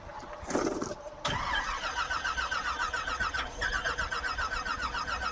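A car engine is cranked on a weak battery, giving a rapid, labored chugging starter rhythm that runs for several seconds after a click and a brief bump, heard close up with no talking.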